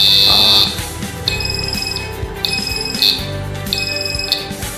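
Homemade fire alarm built around an NE555 timer and a phototransistor sounds its buzzer in sharp repeated high beeps, loud and close, with steady pulses over a low background hum.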